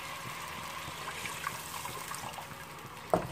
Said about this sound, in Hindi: तो थोड़ा पानी भी मिक्स कर लेंगे हम,